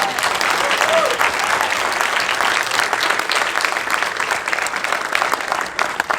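Sustained applause from an audience at a Toronto city council speech, dense and steady throughout, with a faint voice briefly audible near the start.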